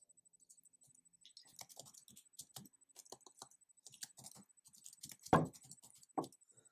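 Fingers type on a German computer keyboard in quick, irregular bursts of close, crisp key clicks, with a couple of louder thumps near the end and no talking.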